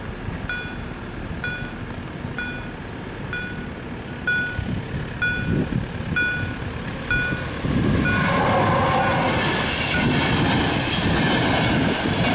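A train passing near a station in Skierniewice, Poland, rumbling closely with clattering wheels and repeated short high squeals, growing louder and heavier toward the end.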